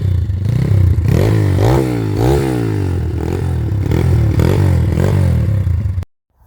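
Kayo TT 140 motocross bike engine revving hard in repeated rising and falling blips, loud and close, with no talk, before cutting off abruptly at the end.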